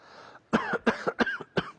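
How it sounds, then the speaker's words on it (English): A chronic cough: a short breathy lead-in followed by four sharp, close cough bursts in quick uneven succession, loud and dry, with no talking. "I have a chronic cough."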